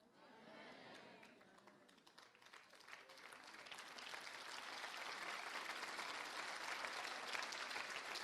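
Applause from an audience at a charismatic Christian assembly, starting as scattered clapping and swelling into a dense, sustained ovation that grows steadily louder to the end.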